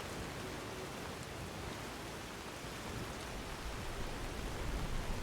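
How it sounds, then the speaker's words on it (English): Rain falls steadily in Skyrim, a soft, even hiss of drops that fills the scene at low volume without pause, growing slightly stronger toward the end. "I do not like that it's raining, because that does mean our hearing is a bit dampened."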